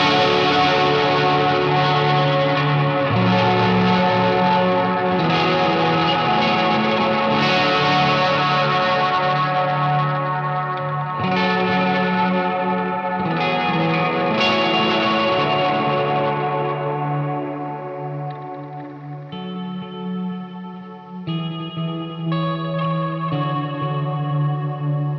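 An electric guitar played through effects pedals with slapback delay rings out in sustained, heavily processed chords and notes, echoing and chorus-thickened, loud and alone for the whole span.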